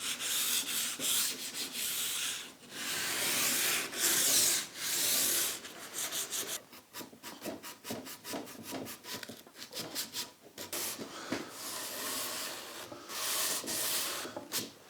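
A small piece of Festool sandpaper is rubbed by hand against wood, repeated close scratchy back-and-forth strokes in an uneven rhythm, with brief pauses between passes and no talking.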